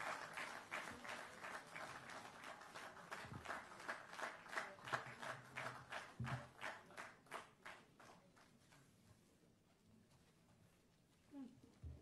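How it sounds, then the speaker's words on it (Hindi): A crowd applauding at an Arjuna and Bhim award felicitation ceremony, steady rhythmic clapping in unison that gradually fades away, heard from a distance. "जोरदार तालियां बजती रहनी चाहिए।"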